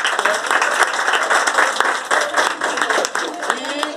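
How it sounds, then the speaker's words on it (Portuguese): Audience applause at an Expo' Arte 2019 art exhibition event, loud continuous clapping from a nearby crowd, dense and sustained without a break. "Vamos aplaudir Pedro"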